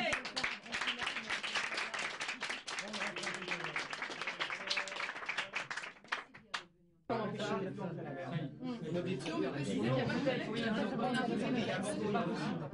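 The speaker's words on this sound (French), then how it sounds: "si on applaudissait simplement Coluche, nous, hein, après tout, pourquoi pas pour Coluche?" Studio audience on a French radio broadcast launching the Restos du Coeur, applauding Coluche; steady dense clapping with chatter and laughter, briefly dropping then swelling again into sustained loud applause.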